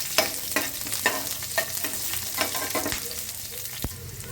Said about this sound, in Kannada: ಬೆಳ್ಳುಳ್ಳಿ, ಶುಂಠಿ, ಹಸಿಮೆಣಸಿನ್ಕಾಯಿ ಇದನ್ನ ಚೆನ್ನಾಗಿ ಬಾಡಿಸ್ಕೋಬೇಕು